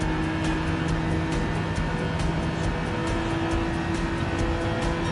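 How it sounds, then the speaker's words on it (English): A Gran Turismo–class GR3 race car in a sim racing game holds its engine at a high, over-revving pitch, a steady loud droning whine with slight wavering and no talking. "Over revving the car."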